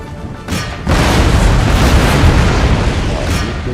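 Gunfire and explosions from a Total War: Empire battle between Russian forces and the Maratha Confederacy: a quieter start gives way to a loud, sustained wall of booming, rumbling blasts.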